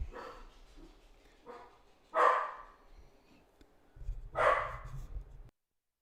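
Dogs barking indoors, a few spaced barks with the later two louder and closer, ending abruptly.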